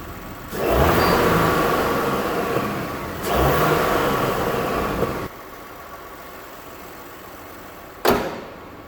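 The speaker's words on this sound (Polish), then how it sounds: "silnik pracuje kulturalnie, lekko sobie mruczy i ma naprawdę świetne parametry oraz osiągi" Volkswagen Touareg R with a 3.0 V6 petrol engine in a plug-in hybrid drivetrain, running with a steady mid-pitched hum that swells twice, settles quieter, then ends with a single thud near the end.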